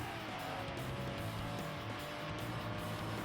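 A Corvette engine in the PS2 racing game Tokyo Xtreme Racer 3 drones steadily at high revs, a constant dense roar that stays at even loudness throughout.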